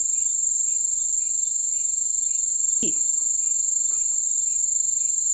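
Crickets chirp steadily at night, a continuous high-pitched trill running through the whole stretch at moderate level, with a brief rustling thump near the middle and no talking.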